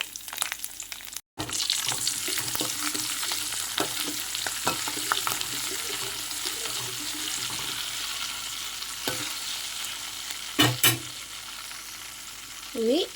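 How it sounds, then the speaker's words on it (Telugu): Dried red chillies, broken in halves, crackle with curry leaves in hot oil for a gongura-style dal. A continuous close sizzle is punctuated by stirring scrapes and a few sharper spatters near the end. "ఆయిల్లో ఫ్రై అవ్వాలి ఇవి ఆయిల్లో బాగా ఫ్రై అయిన తర్వాత"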